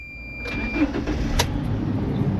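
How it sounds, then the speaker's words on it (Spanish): A car engine cranks and catches, with a rising burst of broadband noise that settles into a steady idle rumble, close and fairly loud with no talking. "Ahora para encender la cámara prendemos el auto"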